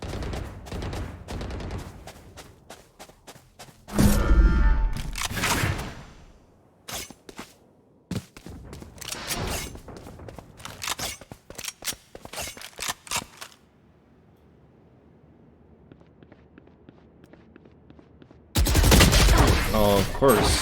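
Gunfire in a multiplayer shooter video game: rapid bursts of shots and loud single cracks, some close and sharp, separated by a quiet stretch, with players talking intermittently between the volleys.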